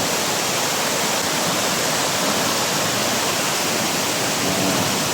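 Heaven Falls in Davao de Oro pours in a steady, loud, broadband rush of falling water that holds even and unbroken from start to finish.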